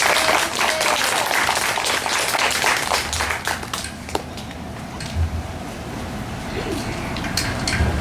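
A round of applause from families at a fifth-grade culmination ceremony, a burst of many hands clapping that gradually thins and fades over several seconds.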